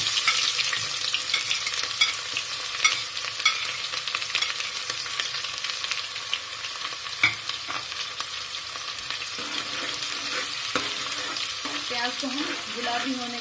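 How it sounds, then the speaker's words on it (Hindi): Onions fry in hot oil with mustard seeds, giving a continuous close sizzle, frequent stirring and scraping of a spoon in the pan, and small pops throughout. "तो हम गुलाबी होने तक फ्राई करेंगे।"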